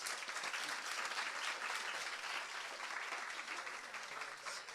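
Steady audience applause fills a corporate live event for a hotel group, dense continuous clapping holding at an even level throughout without a break.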